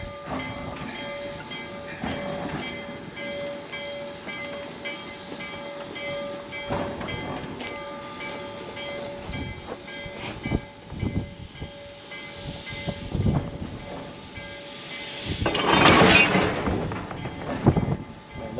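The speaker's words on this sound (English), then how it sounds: "now the train's coming in, guys" A Cumbres and Toltec Scenic Railway train pulls in at Chama, New Mexico, with a sustained whistle tone, rolling wheel clatter and clanks building to a loud hissing burst near the end.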